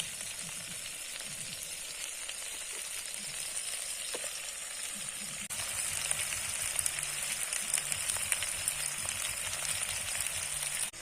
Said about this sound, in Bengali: 2-3 মিনিট মশলাটা কষিয়ে দেওয়ার পর মাংসটা দিয়ে দিচ্ছি আমরা।